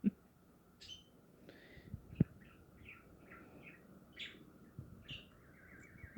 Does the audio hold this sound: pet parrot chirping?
yes